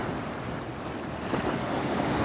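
Rushing sea waves and surf wash continuously onto a beach in Tekirdağ with strong wind buffeting the microphone, loud and close, no voices.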